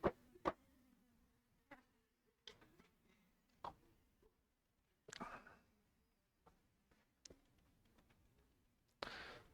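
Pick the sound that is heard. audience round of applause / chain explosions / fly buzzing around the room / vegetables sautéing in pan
fly buzzing around the room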